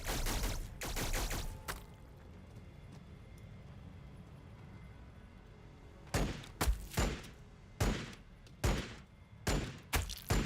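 Plasma pistols firing in Warhammer 40K Battlesector, a video game: a burst of shots at the start, a quiet lull, then a steady series of sharp discharges at regular intervals, loud and close.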